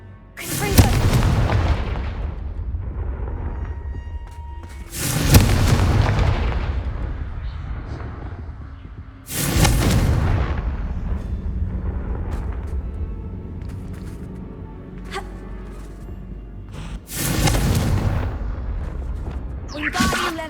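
Confringo fire spell blasts in the video game Hogwarts Legacy: four loud booming explosions spaced several seconds apart, each with a sharp burst and a rumbling decay.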